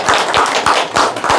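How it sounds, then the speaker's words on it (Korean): An audience at a scholarly recitation gathering claps briefly, a close, loud burst of hand claps with a few heavier accented beats over little more than a second. "우리 한집사분들한테 박수 한번 보내주십시오."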